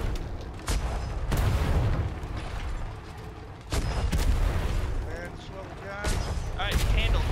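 Repeated heavy booms of ship cannon fire in the naval video game ATLAS, several blasts rolling over a dense, noisy battle backdrop.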